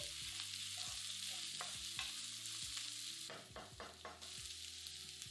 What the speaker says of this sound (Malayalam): പിന്നെ ക്യാപ്സിക്കം ഇട്ട് ഏതാനും സെക്കൻഡ് വഴറ്റുക